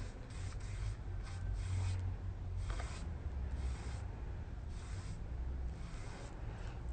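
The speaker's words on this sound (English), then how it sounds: "Take our brush, and we're just sealing it in." A brush spreads poly sealer over tissue-paper decoupage on a drawer side, giving a faint, continuous soft rubbing and scraping with short repeated strokes and no talk.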